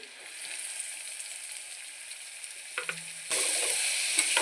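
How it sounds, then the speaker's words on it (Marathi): Onions dropped into hot oil with cumin and garlic paste: a low, quiet sizzle, then a few clatters and a sudden jump to a louder, fuller frying hiss, heard up close with no talking. "आता त्याच्यात घालूया आपण कांदा।"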